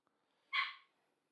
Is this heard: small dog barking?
yes